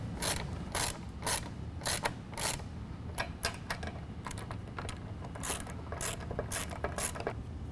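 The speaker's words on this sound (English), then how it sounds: "Now we're going to snug this up with our 4mm Allen and our 10mm wrench." A 4mm Allen key and a 10mm wrench snug up soft-top hardware on a 2011 Jeep JK, with repeated sharp ratcheting clicks in uneven bursts, close and clear, without talking.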